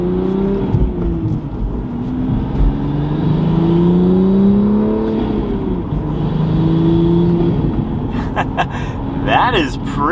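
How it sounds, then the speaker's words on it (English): Manual Toyota Supra fitted with a carbon fiber Armaspeed turbo intake, driven with rising and falling revs as the engine pulls through gears with whirring turbo tones, loud from inside the cabin, with people talking over it. "We want to hear the turbo noises."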